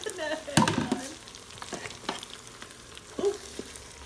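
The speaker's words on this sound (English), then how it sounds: "So we're going to saute that in there." A shrimp creole base of vegetables is sautéed in an Instant Pot, giving a brief close stirring scrape and soft sizzle. A few faint spoon knocks follow in the quiet seconds after.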